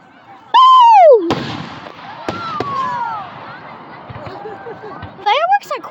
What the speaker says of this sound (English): Fireworks are cool.